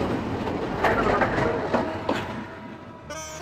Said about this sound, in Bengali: আমার ট্রেন আসার সময় হয়ে যাব